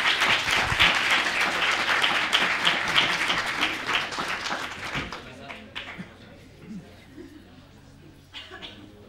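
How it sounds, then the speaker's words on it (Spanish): An audience at a hackathon event claps loudly for the next team, a dense burst that thins out and fades after about five seconds, leaving scattered claps and a voice speaking softly. "Un aplauso, claro que sí."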